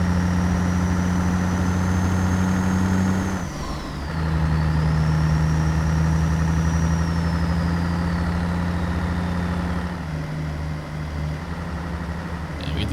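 A modded CAT 3406E truck engine in a driving video game drones steadily with a deep, even idle-like hum, a brief dip in the middle as the pitch shifts, with a whining high tone riding on top.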